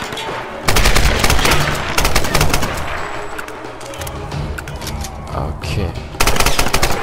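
Rapid bursts of video-game gunfire from Tomb Raider, loud and sustained across the whole stretch, with brief pauses between volleys and a few words of talk over the shooting.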